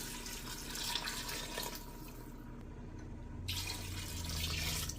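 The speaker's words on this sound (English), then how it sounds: "We're going to go ahead and add 4 more cups of water." Water runs and splashes steadily into a beef stew pot for a few seconds, a pouring, filling sound with a brief lull in the middle.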